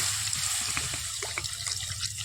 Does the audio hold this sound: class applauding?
no